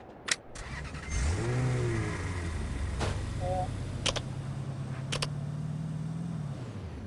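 A car engine in the Philippines catches and rises in pitch, then settles into a steady, close running hum with a few sharp clicks and knocks.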